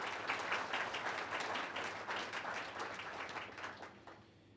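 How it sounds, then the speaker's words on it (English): Audience applause at an art society juror's lecture in Raleigh, a dense steady patter of many hands clapping that tapers off toward the end, with no voices over it. "So thank you, Jan, and another round of applause for you."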